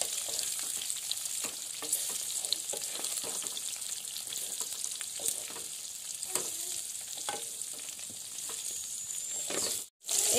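Elephant apple pieces fry in oil for a pickle, giving a continuous, even sizzle with small crackles throughout and a brief dropout just before the end.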